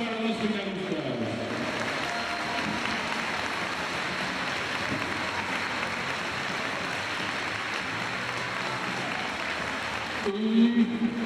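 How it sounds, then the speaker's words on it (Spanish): Strong applause for the junior men's basketball finalists at the 2014 Asturias final, a dense steady crowd clapping for about nine seconds, with a brief voice just before and after it. "Fuerte aplauso para los finalistas."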